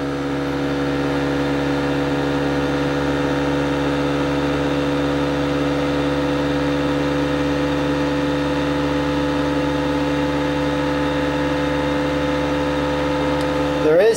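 A bucking field reluctance motor (version 2 design) runs steadily with a continuous mechanical hum and several stable tonal whines, a near, even drone that holds at one pitch throughout and rises briefly at the very end.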